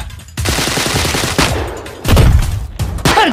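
Rapid bursts of gunfire ring out in the Warzone video game, with several loud, close cracks crowding together in quick succession.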